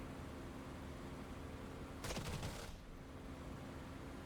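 Gunfire in a World War II dogfight video game, a single short rattling burst of rapid shots rising out of steady engine-like noise, fairly faint overall.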